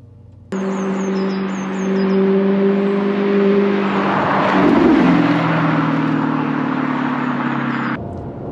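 An Audi R8 V8 with a Capristo exhaust starts up, then holds a steady, loud rumbling idle that builds into a swelling rev partway through before settling again. The sound is close and continuous, and no one speaks.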